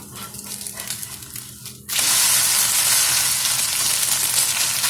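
A Maggi noodle omelette fries in oil with a light crackle, then is flipped and the sizzle jumps to a loud, steady hiss that continues close up.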